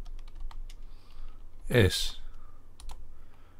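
Keys clatter on a computer keyboard as a command is typed while setting up Arch Linux, with quick close clicks scattered across the clip and a brief louder burst of voice and noise in the middle.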